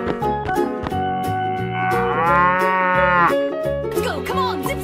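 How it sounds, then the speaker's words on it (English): A cow moos loudly and close, one long drawn-out low call with a rising tonal middle, set against a backing of cheerful music. "Cow."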